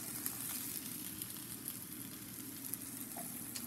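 Vegetables fry steadily in a pan for a breakfast poached egg sandwich, giving a constant soft sizzling hiss with faint crackles and no voices.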